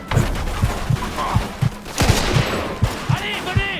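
Repeated gunfire from a shootout in the video game Mafia II Definitive Edition comes as a rapid, steady series of punchy shots with rumbling booms. Characters shout over the gunfire.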